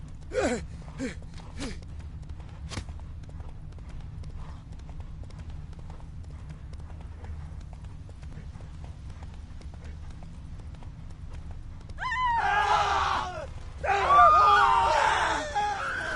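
The horse Roach gallops in The Witcher 3 with a muffled, steady hoof rhythm under a low ambient bed, a few sharp hits at the start and loud strained shouts and groans near the end.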